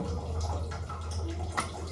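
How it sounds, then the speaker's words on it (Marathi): Tap water runs steadily in a home kitchen, a continuous, fairly quiet gush over a low background hum. "पाणी पण आलं बघ पाणी पण बघून घ्यायचं आहे"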